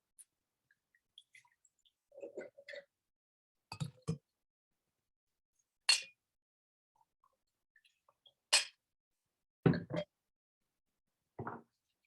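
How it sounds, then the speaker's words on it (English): Wine bottle handling at a Burgundy wine tasting: a series of sparse, sharp glassy clinks and knocks spread across a quiet room, with brief soft scraping between them and no talking. "So again, open the bottle."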